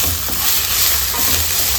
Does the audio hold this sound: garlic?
yes